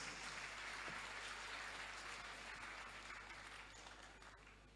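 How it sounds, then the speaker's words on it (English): Audience applause at a youth empowerment summit, a steady wash of many hands clapping at moderate distance that holds for several seconds and slowly fades toward the end. "I believe you can do much better with the applause."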